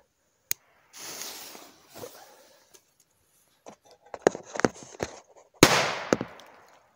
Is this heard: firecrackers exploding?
yes